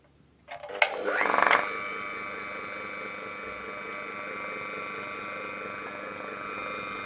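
A homemade compressor built from a refrigerator motor clicks on with a few mechanical clunks, then settles into a steady, fairly loud electric hum with a faint rhythmic pulsing that runs to the end.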